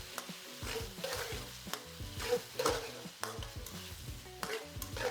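Pork stir-frying in a wok with brown garlic sauce and oil, giving a steady sizzle broken by repeated scraping stirs of the spatula at a close, moderate level.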